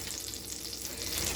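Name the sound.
chicken fried steak sizzling as it is put into hot oil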